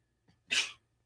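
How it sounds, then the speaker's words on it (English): A woman sneezes once off-screen, a short sharp burst preceded by a faint inhale, fairly quiet and alone. "She just had a sneeze"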